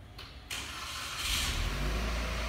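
A 2016 Buick Regal Turbo engine starts by remote: a soft click, then the motor cranks and catches into a steady, close idle that rumbles on without voices.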